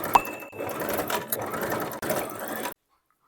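A sewing machine runs a straight stitch along a seam in palazzo pant fabric, with a fast, steady mechanical whir, brief pauses and a clear stop near the end.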